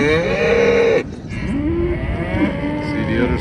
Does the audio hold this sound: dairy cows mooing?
yes